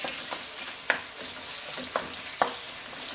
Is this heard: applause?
no